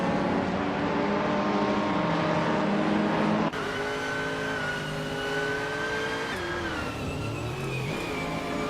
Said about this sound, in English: Imogen Tempest is driving a 2015 Nissan 370Z Nissan GT4 Tourer